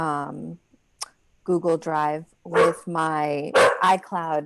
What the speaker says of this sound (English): that's my dog protecting us from nothing